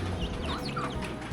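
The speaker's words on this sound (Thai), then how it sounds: "นี่ คือไก่เลยทุกคน" A chicken in the rural countryside gives a quick run of short, close clucks over a steady background hiss, with no voices.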